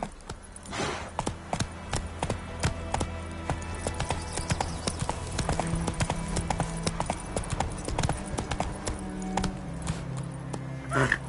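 Hooves clip-clop in a fast, steady rhythm as a horse gallops in The Witcher 3 on PS5. The hoofbeats run continuously and stay moderately loud throughout, with occasional faint game sounds underneath.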